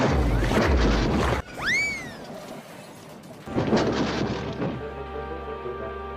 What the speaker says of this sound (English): There was a loud crash.